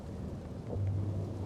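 A thunderstorm in Life is Strange: Double Exposure, with a steady low rumble of rain and thunder that swells into a deeper rolling boom partway through, with no talk.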